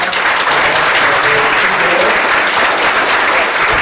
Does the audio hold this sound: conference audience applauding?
yes